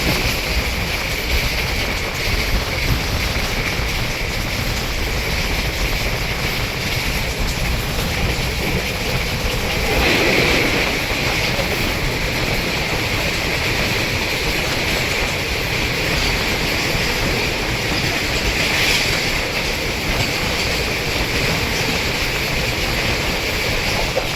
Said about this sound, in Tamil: டக்குன்னு ஒரு குட் ட்ரெயின் நம்மளை கிராஸ் பண்ணி இருக்குது